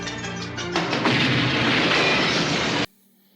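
Sustained, loud gunfire from a movie shootout where one police officer fights off hundreds of gang members, a dense barrage of shots and blasts that cuts off abruptly into near silence.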